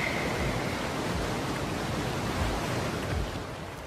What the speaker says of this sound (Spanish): Nada puede evitar que el agua entre en tromba.